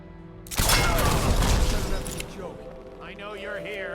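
A large explosion in the stealth game Dishonored: The Knife of Dunwall erupts suddenly with a loud, broadband blast and crackling debris that slowly tails off, followed by quieter mechanical whirring.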